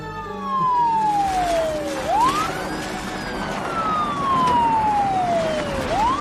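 Ambulance siren wailing loudly and up close, its pitch sweeping down slowly and then snapping back up twice in a repeating cycle, with engine rumble underneath and no talking.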